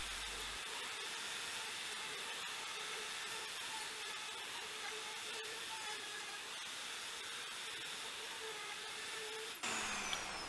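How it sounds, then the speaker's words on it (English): A router flattening a charred oak slab gives a loud, steady, continuous high-pitched whine with broadband cutting hiss, running unbroken until it cuts off abruptly near the end. "I'm going to be using this charred oak slab."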